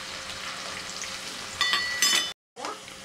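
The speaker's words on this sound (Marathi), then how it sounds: "कढीपत्ता घालूयात।" Curry leaves dropped into hot oil for Marathi poha chivda, a loud close sizzle and crackle that flares up sharply, cuts out for a moment, then resumes frying.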